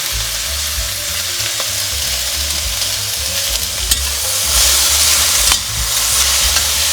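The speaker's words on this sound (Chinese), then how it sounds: "我看你火很大呢，这是大火快炒哈" Bean sprouts stir-fried over high heat in a hot wok, a loud continuous sizzle with scraping stirs, growing briefly louder midway, no talking.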